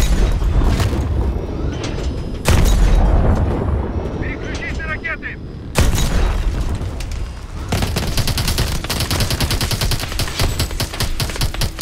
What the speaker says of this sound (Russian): Это типа пулемет из ракет